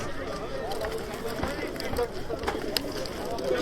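Soft pigeon cooing mixed with fluttering and a busy background of voices and movement at a bird market, fairly close and continuous.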